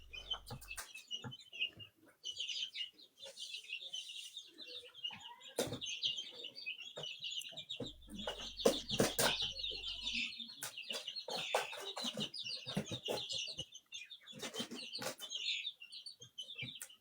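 Chickens clucking nearby, with repeated bursts of clucks and squawks and some chirping birds in the background, plus faint low rustles.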